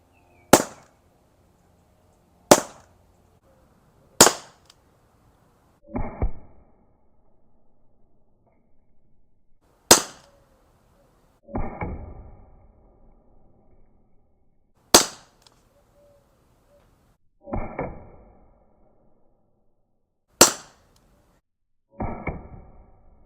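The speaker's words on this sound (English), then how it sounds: "Again, let's arm this gun and start shooting." Five sharp, loud shots from an Umarex HDP 50 compact air pistol fired at a target 20 feet away, spaced a few seconds apart, each followed by a softer thud of the pellet striking, with no talking.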